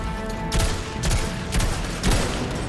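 Turret gunfire in a Destiny 2 Grandmaster Arms Dealer strike: four loud bursts of shots at roughly half-second intervals over a steady hum of game effects, close and punchy.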